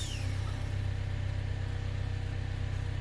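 An old engine runs on a cold morning with the choke on. It keeps up a steady, throbbing idle for the whole span, with no voices.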